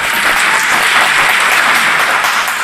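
Loud, sustained applause from an audience at a talk about Heineken beer, a dense wash of clapping with no breaks.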